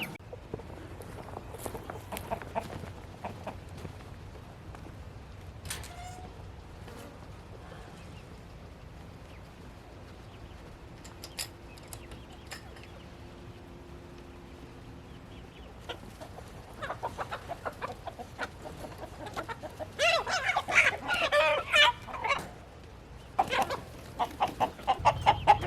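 Silkie chickens, including a golden rooster and his two sons, cluck and murmur in a backyard coop. The calls are scattered and quiet at first, then grow busier and closer near the end, with a few rustling footsteps.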